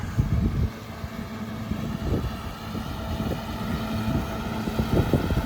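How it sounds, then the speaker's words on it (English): A good breeze buffets the microphone outdoors on a cloudy day at a large yard being mowed, a loud low rumble that stays steady throughout with no talk. "It's a good breeze blowing"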